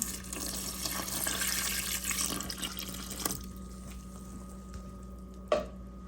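Water pours steadily into a bread machine pan at home, a continuous close splashing stream for about three seconds that then stops, leaving quiet room tone and a single small clunk near the end.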